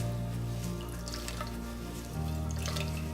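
Liquid is wrung from cooked cauliflower for low-carb tortillas: a faint, continuous trickle and splatter of fluid dripping into a bowl, steady and close, with a slight change in tone partway through.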